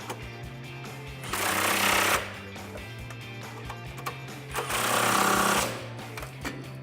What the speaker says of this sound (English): if you're using an impact gun like me, you'll need an impact swivel socket for clearance